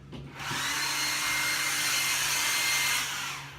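A handheld blow dryer switches on, runs with a loud, steady whooshing hum for about two and a half seconds, then cuts off, heard close and alone.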